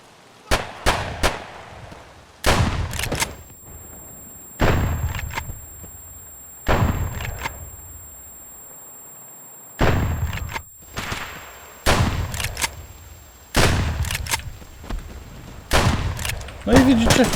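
Bursts of gunfire in the video game Escape from Tarkov crack out in short clusters with brief gaps between them, loud and close, followed by lingering reverberant tails.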